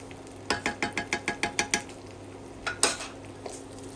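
Chicken with chicken spices and saffron colouring is stir-fried in a pan: a quick run of about nine rhythmic utensil scrapes and clinks over a soft sizzle, then a couple of louder knocks.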